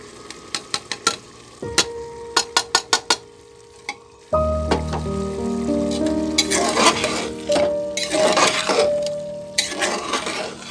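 Broken wheat (dalia) is stirred in a pan, first with a run of sharp clicking spoon taps and then a fuller frying sizzle and scraping under steady background music.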